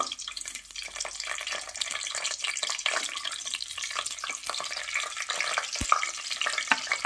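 Bay leaf and cinnamon sticks frying in hot oil at the start of a mutton biryani, a steady crackling sizzle with stirring clinks and one sharp knock near the end, no talking.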